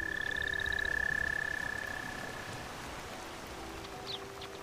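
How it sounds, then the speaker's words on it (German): Frogs croaking in Skyrim Special Edition near a lakeside mill: a quick chain of croaks at the start, over a constant hiss of rain and water, with a faint extra chirp near the end and no voices. "Oh, Vorsicht, Frösche."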